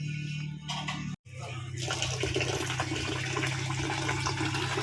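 Water gushes steadily and loudly from a strong sink faucet at a riverfront campsite in Tanay, Rizal, a continuous rushing stream that starts after a brief pause.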